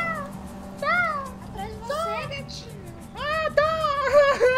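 A kitten in the GTA V video game meows repeatedly in short, rising-and-falling cries, fairly close and clear, alternating with a person calling out to it.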